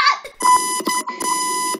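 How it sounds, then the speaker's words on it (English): A loud, steady electronic beeping comes in close, insistent pulses with brief breaks, like an alarm going off. "Beeping sounds! Wow, that was a wonderful sound of beep."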